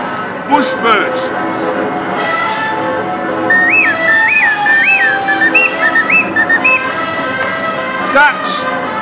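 A person whistles imitations of Australian bush bird calls: a series of short, clear, warbling whistled notes in a quick sequence. Speech comes before and after the whistles.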